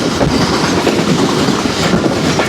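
Pak Business Express train racing at high speed on the Rohri to Karachi line, a loud continuous rumble of wheels and carriages with steady clickety-clack rhythm, heard close from on board.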